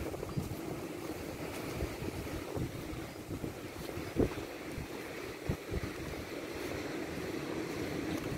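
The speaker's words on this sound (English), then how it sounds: "I don't think the waves are big enough for surfing." Small, gentle sea waves at Fig Tree Bay in Protaras wash against the shore under steady wind noise on the microphone, with soft rolling surges rising and falling.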